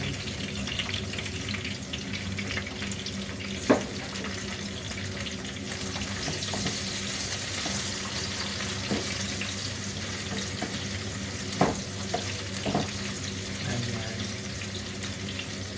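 Chopped onion fries in a pan while bottle gourd is being cooked, a steady close sizzle and hiss running throughout with a couple of brief knocks from utensils.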